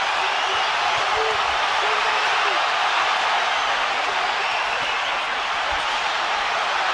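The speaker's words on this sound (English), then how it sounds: "the crowd are going crazy" Loud, dense roar of a boxing arena crowd at the Canelo Alvarez vs Gennady Golovkin fight, a sustained wall of cheering and shouting that swells steadily without a break.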